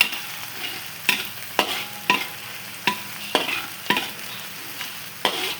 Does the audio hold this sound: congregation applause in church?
no